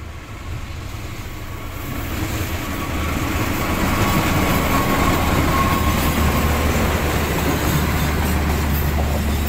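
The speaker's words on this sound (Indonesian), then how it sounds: "Dari stasiun Manggarai ini pakai lokomotif CC206." A train hauled by a CC206 locomotive at Manggarai station, a steady loud rumble of rolling wagons with low engine drone that swells after the first few seconds and holds.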